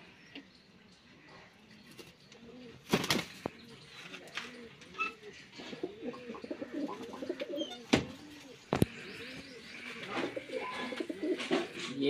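Punjabi Malwai pigeons coo in low rolling phrases, growing busier and closer as the calls continue, broken by a few sharp clicks and knocks.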